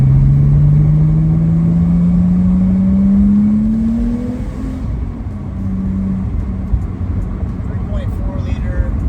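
Porsche 987 Boxster Spyder with a 3.4-liter naturally aspirated engine and aftermarket parts, revving loudly while driving, pitch climbing steadily then dropping off and settling into a lower drone.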